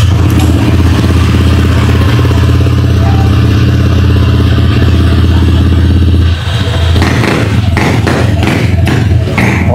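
A Honda Click 125 scooter with an upgraded CVT, fitted with new center and clutch springs and 12-gram flyballs, its engine droning loudly and steadily up close before clattering, thumping bumps take over as it rides off.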